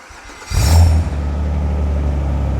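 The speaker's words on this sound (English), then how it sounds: "the Quicksilver exhaust combined with the lightweight flywheel makes for a really lovely start-up" A Renault Clio V6 with a Quicksilver exhaust and lightweight flywheel cranks and fires up: a sharp bark and zingy flare on start-up, then settling into a deep, loud, steady idle rumble nearby.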